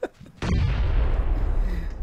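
A grenade going off in PUBG, a sudden heavy boom with a low rumbling tail that fades over about a second and a half, following a brief faint click.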